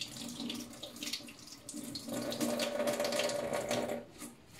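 Parsley being washed under a running kitchen tap while preparing a Christmas chicken soup: a steady splashing stream of water into the sink, close and moderately quiet, shifting in tone midway as the leaves move under the flow.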